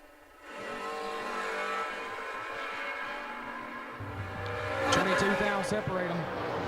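Drag race cars, including a Chevrolet Camaro, launching at a footbrake drag racing event, loud engine roar building steadily with a sharper surge midway, with an announcer talking over it.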